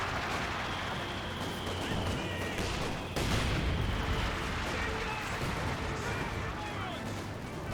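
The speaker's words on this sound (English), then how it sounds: "so large amounts of artillery" Artillery and mortar barrages in the World War II strategy game Company of Heroes 2, with dense rumbling blasts layered into a steady, loud din and a sharper burst about midway.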